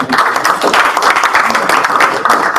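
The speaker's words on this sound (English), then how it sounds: "let's give a round of applause for Mike" Applause from a meeting audience honoring a presenter: dense, steady clapping from a small group, close and fairly loud throughout, with no voices over it.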